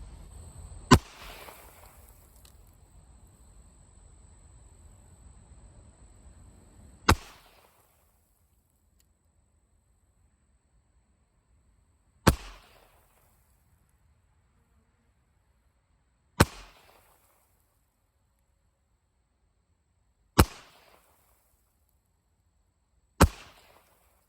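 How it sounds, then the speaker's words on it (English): A 9mm Makarov handgun fires PPU Defense Line rounds outdoors: six sharp, loud reports spaced several seconds apart, each followed by a brief decaying echo, with no voices. "I'm just going to shoot a bunch of rounds and see how reliable the handgun is"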